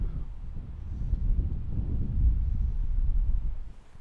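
Wind gusting across an open golf course, a steady low rumble of buffeting air on the microphone that swells through the middle and eases off near the end, with no voices.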